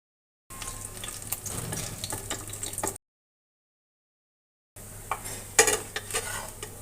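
Wax gourd flower pitha sizzles as it fries in a pan, with scraping stirs and clinks of a utensil. There are two bursts of steady frying separated by a silent gap, and it sounds close and moderately loud.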